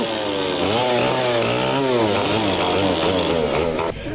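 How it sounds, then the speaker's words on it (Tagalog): A loud chainsaw runs steadily close by, clearing trees felled by a tornado in San Fernando, La Union, its pitch dipping and rising as it bites into wood, with a brief drop in the engine near the end. "Gumamit pa ng chainsaw ang taga CDRRMC para tanggalin ang mga nabuwal na puno."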